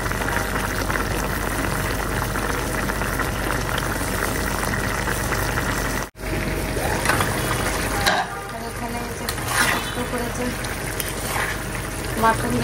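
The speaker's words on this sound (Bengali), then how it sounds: "মাটন লিভারটা বসাইছি না, তার মধ্যে একটু গরম পানি দিয়ে দিচ্ছি," Mutton liver cooking in a pan with a little hot water added, a bubbling, sizzling simmer with a brief dropout midway and faint stirring sounds afterward.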